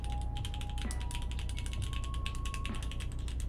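Even, rapid clacking of an Iron 165 FE mechanical keyboard, with paper under the PCB and plate, sounds close and steady through the whole stretch, with no talking over it.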